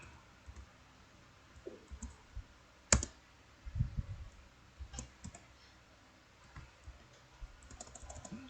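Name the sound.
typing HTML code on a computer keyboard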